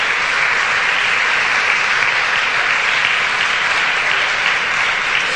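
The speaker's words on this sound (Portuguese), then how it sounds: "Dá um aplauso a Jesus neste lugar." Sustained, loud applause from a church congregation fills the space, a dense, even roar of clapping hands that holds steady without a break.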